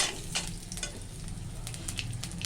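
Nigella seeds fry in hot oil with a continuous crackling sizzle and scattered sharp pops over a low rumble, close and steady with no talk.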